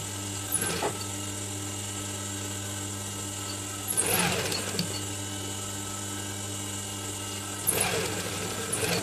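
A domestic sewing machine stitching the edge of a fabric face mask, its motor running in a steady close whir, with three short bursts of faster, louder stitching spaced a few seconds apart.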